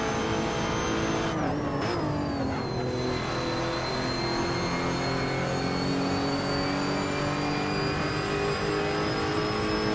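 A Lotus Evora with a 4-litre V6 engine races in Assetto Corsa, its loud, continuous engine drone holding close throughout, with pitch shifting up and down as it shifts gear and accelerates through corners, other car engines joining in the background.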